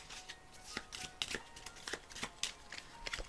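Monster cards from the Cartographers board game are shuffled at close range, giving a quick run of crisp papery riffles and flicks in irregular bursts, with no voices.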